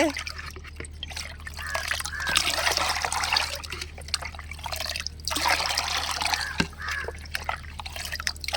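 Calcium fertilizer for plants being stirred into three liters of water: close, continuous sloshing and trickling with small splashes and drips, rising and falling in swirling waves.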